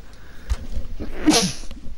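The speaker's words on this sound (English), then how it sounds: "that was a fucking powerful sneeze" A sharp, forceful sneeze bursting out in one loud blast after a couple of quieter breathy sounds, close to the microphone during video game play.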